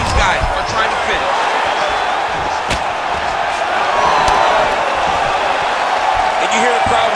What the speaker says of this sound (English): you hear the crowd react every time they come together